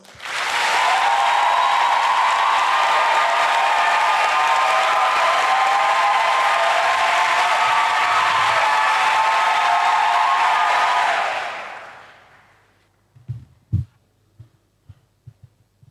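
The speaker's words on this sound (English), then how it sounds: "Let us welcome him with a big round of applause." An audience at a faith-based gathering claps loudly and steadily for about eleven seconds to welcome a speaker, then the applause fades out, leaving a few brief knocks and thumps in near silence.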